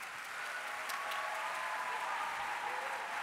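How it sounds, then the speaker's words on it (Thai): Steady, dense audience applause at the MAI Championship 2019 marching band contest, welcoming the Bangkok Christian College marching band, holding evenly loud for the whole stretch with no voices over it. "ขอเสียงปรบมือต้อนรับโรงเรียนกรุงเทพคริสเตียนวิทยาลัยครับ"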